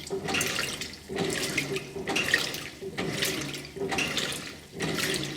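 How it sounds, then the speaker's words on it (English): A 2002 Kelvinator K605 washing machine churns through its wash action on a regular colors cycle, its water sloshing in steady surges about once a second, close and continuous with no voices. "this is what the wash action would look like"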